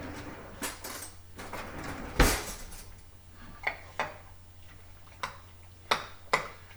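Chili being stirred in a pot, a spoon knocking and scraping against the metal in a loose series of sharp clinks and taps, close and clear, with one louder clatter early on and a low steady hum beneath.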